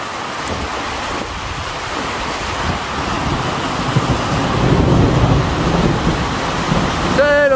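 Heavy rain pours down in a violent thunderstorm over Grenoble in the Alps, a loud, steady roar that swells slightly toward the end, with a brief tonal whine at the very close.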